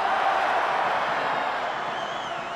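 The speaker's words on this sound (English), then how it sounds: "The crowd, they like that replay." A big rugby league crowd at a 2000 Canberra Raiders v Canterbury Bulldogs match murmurs and buzzes steadily as a replay is shown, a broad wash of distant voices that gradually eases off.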